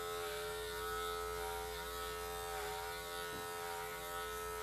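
A cordless Andis hair clipper buzzes steadily while cutting hair in a barbershop, a close, even electric whine with slight changes in tone as it moves through the hair, and no talking.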